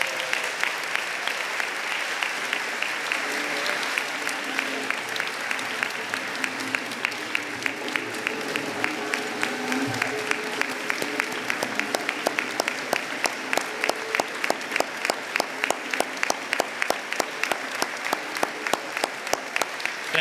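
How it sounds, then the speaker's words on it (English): Sustained applause from a banquet audience at a bar association's annual installation dinner, steady dense clapping filling the room for about twenty seconds, with a faint voice briefly underneath. "Please give her a massive round of applause for that."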